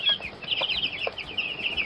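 Chickens cluck and chatter continuously, a busy mix of calls close by with no talking.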